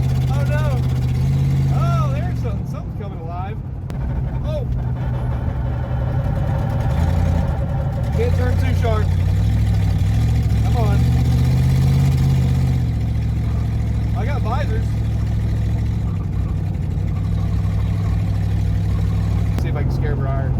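A junkyard 1966 Mustang V8 engine idles roughly and struggles to keep running, a loud uneven low rumble throughout with people talking excitedly over it.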